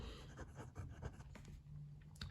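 A standard 1.1 mm Yovo stub nib fountain pen writes on paper, a very faint, close scratching in short uneven strokes with small pauses, quiet throughout and with no talk.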